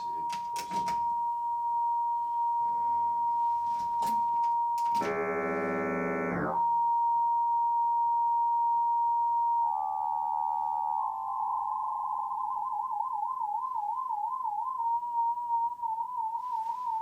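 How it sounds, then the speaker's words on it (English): A pure sine tone from a modular synthesizer holds steady, broken by brief clicks and a dense buzzy burst, then gains a gentle wavering pitch modulation that gives a theremin-like warble toward the end. "theremin kind of effect, but with a very pure sine wave."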